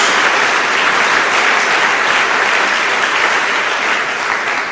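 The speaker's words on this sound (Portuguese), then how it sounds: "Dê uma salva de palmas ao Senhor." A church congregation giving a sustained round of applause, a dense, even roar of many hands clapping that fills the room and holds steady for several seconds.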